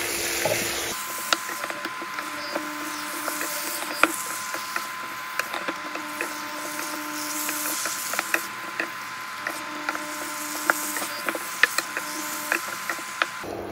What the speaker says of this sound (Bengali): সেটার জন্য আমরা খুব ভালো করে নেড়ে চেড়ে দিচ্ছি